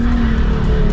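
A Nissan 350Z with no traction control squeals its tires in a burnout, a sustained loud screech over a steady engine drone, close and continuous.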